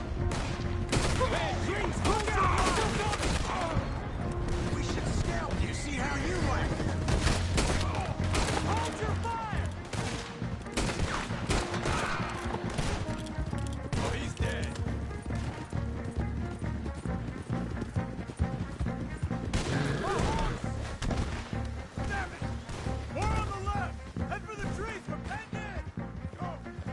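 Gunfire in Red Dead Redemption 2 during a horseback chase, dense volleys of shots mixed with galloping hooves and game music, loud and continuous, with voices shouting throughout.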